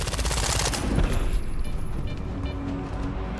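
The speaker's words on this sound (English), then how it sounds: "I'm shooting everything." Rapid video-game gunfire with bursts of automatic shots rattling loudly and densely over a steady background of combat noise, up close throughout.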